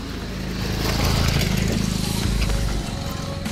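Motorbike engine droning steadily as it rides down a rough, risky mountain road in Sikkim, loud and close, without clear speech.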